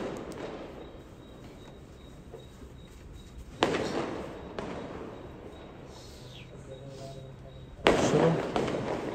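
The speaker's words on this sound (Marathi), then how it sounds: "फटाके 12 वाजता फुटले काय?" Firecrackers burst at midnight, with sharp loud cracks at intervals over a continuous crackling, distant rumble of more fireworks in the background, and a voice speaking briefly.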